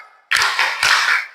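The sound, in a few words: class doing the 'tepuk semangat' clapping chant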